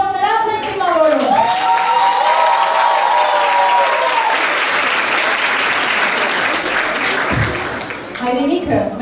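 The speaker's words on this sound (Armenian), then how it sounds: "Այն ավելի բարձր ծափերով նրանց են դիմավորում։" A crowd applauds loudly and continuously at a high school last-bell ceremony, with a voice speaking over the clapping at the start and again at the end.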